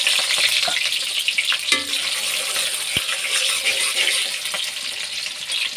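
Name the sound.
onion and dried chillies frying in oil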